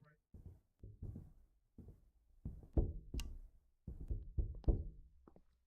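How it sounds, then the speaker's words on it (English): Loud knocking on a back door in a video game, several clustered rounds of heavy raps in an uneven rhythm, close and punchy, with chatter mixed in. "Knocking at the back door."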